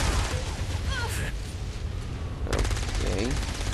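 Enemy gunfire in Saints Row: Gat Out of Hell comes as dense, sustained bursts of rapid shots under a busy game mix, continuous across the whole stretch with a fresh volley near the end.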